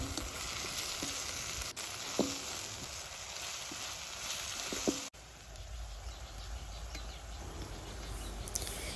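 Vegetables sizzle in a pan as salt, soy sauce, red chilli sauce and vinegar are stirred through, a continuous hiss broken by occasional spoon knocks and one sharp clatter midway, with no voices.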